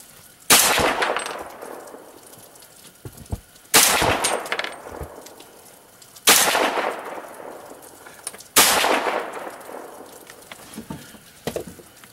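Four loud, sharp rifle shots from a 300 AAC Blackout at an outdoor shooting range, evenly spaced a few seconds apart, each followed by a short echoing decay, with no talking.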